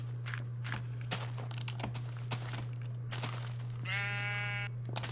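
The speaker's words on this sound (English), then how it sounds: "the sheep ran away" A Minecraft sheep gives a single wavering bleat near the end, following a run of soft game footsteps and clicks over a steady low hum.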